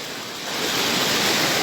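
Floodwater from the overflowing Alue Merah river in Indra Makmur, East Aceh, rushes in a steady broadband roar that swells slightly louder after the first half second, with no voices.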